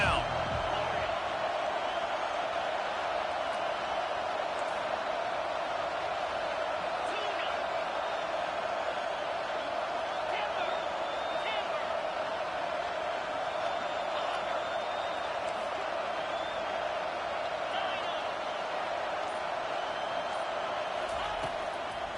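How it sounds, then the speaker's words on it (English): A stadium crowd in an NCAA/Madden football video game keeps up a continuous, swelling roar of cheering as the defense lines up on third down, with occasional whoops rising out of the steady wall of noise. "Decibels rising as the crowd gets behind this defense on 3rd down."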